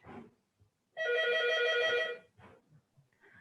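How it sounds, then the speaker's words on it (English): A telephone bell rings in a lecture hall, one loud sustained burst of about a second, with faint scattered room noise and brief murmurs before and after. "There is a telephone ring."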